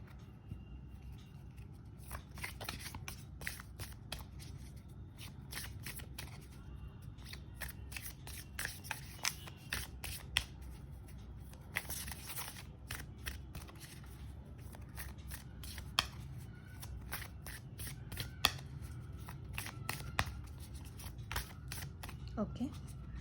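Tarot cards are shuffled by hand before a reading, with a quiet, close run of crisp riffles, snaps and flutters, irregular but continuous, as someone talks softly over them.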